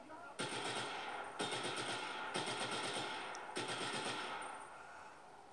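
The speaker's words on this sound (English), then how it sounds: "it looks like I'm shooting in like an automatic RPG or something" An automatic RPG launcher fires in the video game Just Cause 3: four loud, sustained bursts of rapid repeated blasts, each starting sharply and running a second or so, with only tiny gaps between them.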